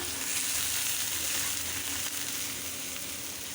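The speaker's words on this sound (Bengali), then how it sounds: "পেঁয়াজটা ভাজছি" Steady, dense sizzle of onions frying in hot oil for a river pangas fish curry, a constant crackling hiss that stays even throughout with no voices.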